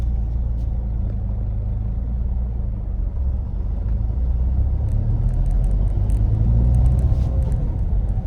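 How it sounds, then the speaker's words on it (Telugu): Steady low engine rumble of an idling Tata Indica V2 with a 1.2-litre petrol engine, close and continuous, growing slightly fuller toward the end with faint ticking sounds. "సో ఇంజిన్ అంత నాయిసీ ఏం లేదనమాట"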